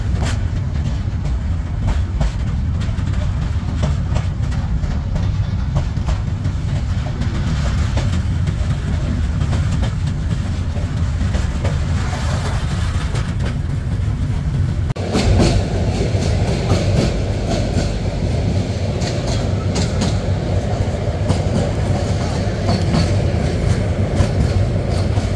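The Porjotok Express passenger train, running from Cox's Bazar to Dhaka, rumbles steadily along the rails with continuous rhythmic clickety-clack and a loud, close, unbroken roar that brightens partway through.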